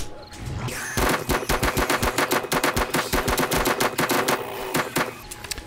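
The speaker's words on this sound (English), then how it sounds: "I do have fully automatic mode on this, but I'm going to try and, you know, do single shots and not waste ammo" Rapid, evenly spaced gunshots from an automatic weapon fired in single shots during a horde night in 7 Days to Die, loud and close, dozens of sharp cracks in a steady rhythm with no talk.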